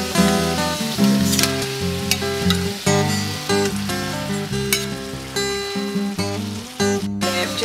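Blackfish pieces frying in a pan on an electric stove give a steady, close sizzle with occasional stirring scrapes, running continuously beneath background music.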